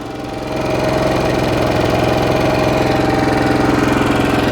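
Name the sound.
Westinghouse 4500 generator engine running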